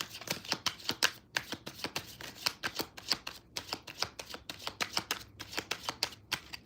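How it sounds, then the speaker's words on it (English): Tarot cards are shuffled in quick short bursts, a rapid run of crisp riffling flicks repeating about every third of a second, close and fairly quiet, with no talking. "That was some short shuffles."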